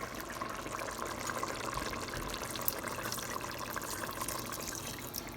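Cow's milk, about half a cup, is poured into a simmering Sri Lankan prawn curry with drumstick, a steady soft liquid splash and trickle running throughout, close and continuous with no speech.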